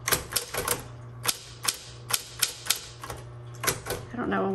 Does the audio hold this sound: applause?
no